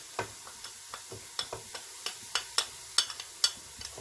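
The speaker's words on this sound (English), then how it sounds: "Give it a stir." Chilli con carne with chili powder, cumin and cinnamon stirred in a pot, a string of sharp scraping clicks and light sizzling taps about every half second, close and moderately loud with no talking.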